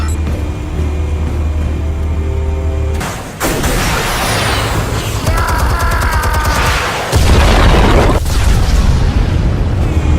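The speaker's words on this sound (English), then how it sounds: "Explosives armed. Fire when ready." Loud explosive booms and blasts from detonating charges in a Batman action video game, a sustained dense barrage with heavy low rumble and crackling bursts filling the whole stretch, with no talking.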